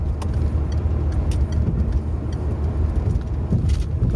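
A truck carrying a large digger on a Scottish motorway rolls past amid steady broadband road roar and tyre noise, with faint clicks over the rumble and no talk.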